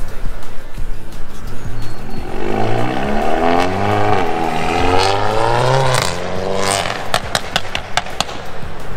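A car engine revs hard, climbing in pitch through several upshifts, echoing off nearby surfaces, with sharp pops and crackles toward the end.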